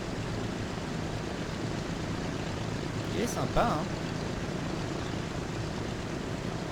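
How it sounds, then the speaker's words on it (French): Propeller airplane in the video game Transport Fever 2 rolling out of its hangar, a steady loud engine drone throughout, with a brief spoken remark partway through. "Voilà notre avion."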